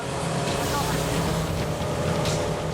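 Constant roaring drone of a speedboat engine running at about 70 km/h on the Mekong, with wind and rushing water noise, steady and loud throughout.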